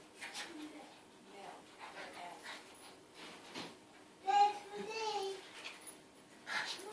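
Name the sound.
dogs fighting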